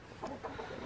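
A rooster gives a brief, soft cluck or two in a farmyard. The sound is faint and short, with no voices over it.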